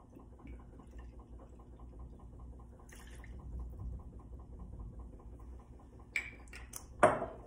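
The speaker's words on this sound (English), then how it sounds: "Now we're also gonna do a quarter cup of the apple cider vinegar." Apple cider vinegar poured into a measuring cup for a broccoli slaw dressing, a soft liquid trickle over a steady low machine hum, ending with a couple of sharp clinks of the cup.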